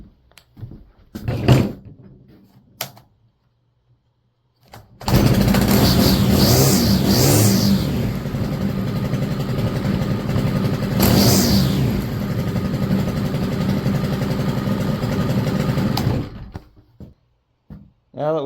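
A STIHL FS 100RX string trimmer with a bad clutch and primer bulb is pulled and fires up, a few short bursts leading into a loud, close, sustained engine run with revving surges before it cuts off.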